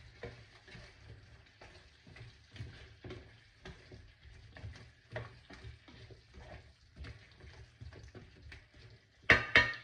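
Carrots and potatoes cook in an afritada pan, a steady soft sizzle with repeated scraping stirs throughout, ending in a louder clatter near the end.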